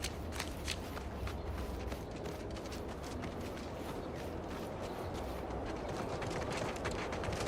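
Footsteps in the video game Outer Worlds 2: quick, continuous steps patter over a dense, noisy game soundscape, loud and close, with no pause throughout.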